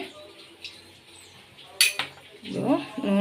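A metal pan set down on a stove with a sharp clank, followed by lighter clinks, then a voice speaking close by.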